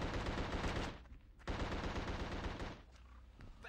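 Rapid gunfire in the PS2 horror game The Suffering: loud, dense bursts of automatic shots that break off briefly, then resume in a sustained volley with no voices over them.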